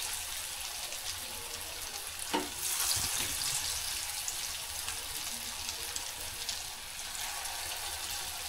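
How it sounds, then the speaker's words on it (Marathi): Corn manchurian balls frying in hot oil over medium heat, a steady close hiss and sizzle throughout with a brief louder crackle near the middle. "हे बघा असे चांगले आपण असे खरपूस असे तळून घ्यायचे।"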